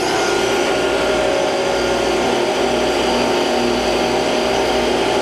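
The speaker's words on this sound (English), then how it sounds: "So we want to turn on the spindle." A 10-by-20-inch Landis universal I.D./O.D. cylindrical grinder runs with its spindle on, giving a loud, steady whirring drone with a broad rushing hiss and no pauses, close to the machine.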